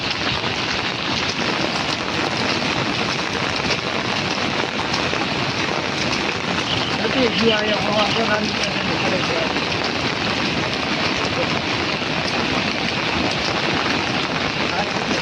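Broad, steady rushing of the flooded Malan river at Mota Khutvada, swollen after a night of rain, a continuous wash of water noise close to the microphone with some wind buffeting and voices talking over it.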